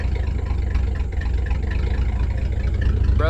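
A Chevy S10 engine idles steadily, a loud, continuous low rumble with an even pulse throughout, heard close up with no talking.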